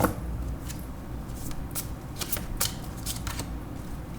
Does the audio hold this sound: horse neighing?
no